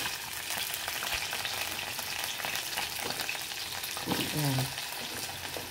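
Potato pieces frying and browning in a pan of oil for chicken afritada, a dense continuous sizzle with occasional stirring, close up, and a brief spoken word near the end.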